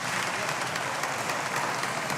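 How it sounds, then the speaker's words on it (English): Applause from an audience of married persons during a talk on marriage, a continuous, fairly soft mass of clapping that holds steady for about two seconds. "you could clap, you could clap"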